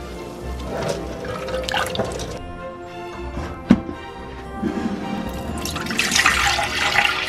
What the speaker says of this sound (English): Once you pour off the water,